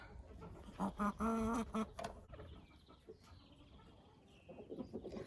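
Silkie hens in a farmyard giving a burst of loud, close clucks and squawks, then quieter scattered clucking and rustling, with a faint voice near the end.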